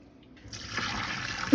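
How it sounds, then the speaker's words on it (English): Freshly cooked pasta being drained through a colander, giving a soft, steady wash of pouring water that builds after a quiet start and runs on for about a second, ending with a brief louder splash. "I got some pasta here I just cooked. And I'm about to drain it."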